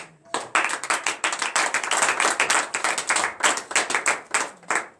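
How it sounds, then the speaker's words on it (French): A congregation claps at a morning prayer service, a brisk, dense run of close hand claps that starts sharply and keeps a lively, slightly uneven rhythm for several seconds. "Donnez l'acclamation à l'Éternel."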